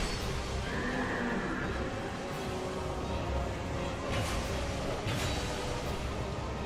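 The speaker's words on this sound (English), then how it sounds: "I was lucky that the horse was choosing to use its dark breath attack rather than kind of charging me all the time" A horse boss in Dark Souls 2 neighs and whinnies loudly in a drawn-out call, with faint hoof clops beneath it in a dense, busy game soundscape.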